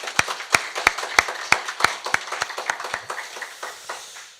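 A church congregation claps during a Sunday worship service, a run of crisp, evenly spaced hand claps that start loud and gradually soften and thin out.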